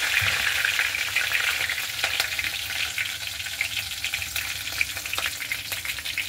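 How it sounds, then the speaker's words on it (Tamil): Cumin seeds and curry leaves frying in hot oil for a pea kurma, with a steady, dense sizzle and crackle heard close and fairly loud, and no talking. "அதுக்கு பிறகு சீரகம் கொஞ்சம் பொரியுது"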